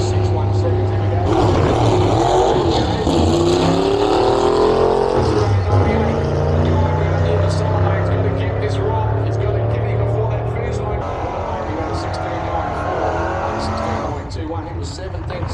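Drag racing cars running down the strip, a loud sustained engine roar with shifting pitch as the cars pass, under a commentator's voice throughout.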